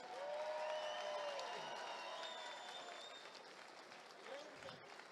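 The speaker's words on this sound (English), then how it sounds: "A big round of applause for these two warriors." Applause and cheering from a crowd after a cage fight at a fighting championship, sustained and fairly loud across the whole stretch, with a drawn-out announcer-like tone riding above the clapping.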